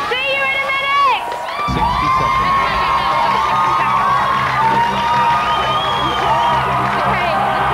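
A large crowd outside the Big Brother house cheers and shouts continuously, loud and sustained whoops from many voices, with a nearby voice speaking over it.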